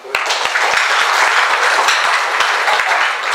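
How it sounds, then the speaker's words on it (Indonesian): An audience claps loudly and steadily through the whole stretch, a dense wash of applause with sharp individual claps standing out, at an audience session with a member of parliament. "Tepuk tangan."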